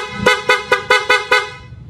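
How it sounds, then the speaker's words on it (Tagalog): A motorcycle's stock horn honks six times in quick succession, loud and close, in a rapid even rhythm. "Napakalakas ng busina mga sir."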